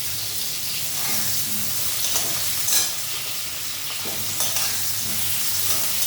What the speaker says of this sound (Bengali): এর মধ্যে আমি কালো জিরা ফোড়ন দিয়ে দিয়েছি। আর এটা হলো বেগুন দেবো।